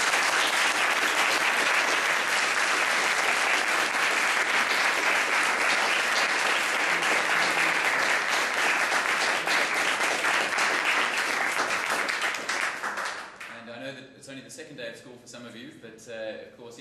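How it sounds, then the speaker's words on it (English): Sustained audience applause after a round of a World Schools Debating Championships match between Argentina and Singapore, dense and steady for about twelve seconds before thinning out into scattered claps and quiet voices. "could I ask you please to say a huge round of applause."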